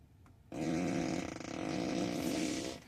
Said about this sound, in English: You can do it fart on the turn signals, fart on demand.